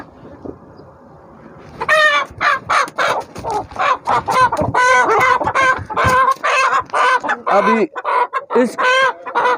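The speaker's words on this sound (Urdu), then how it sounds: "اس کو میں نے پکڑا اور دوسری مرغیوں نے مجھ پہ حملہ کر دیا ہے۔" Rare Australorp chickens and other hens clucking loudly and agitatedly up close in a busy run, after a quiet start with a brief spoken word.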